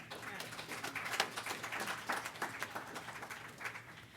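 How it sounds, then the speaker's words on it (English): Scattered applause from a modest crowd, steady rapid clapping over several seconds with no voices on top. "round of applause to the entire Franklin County team"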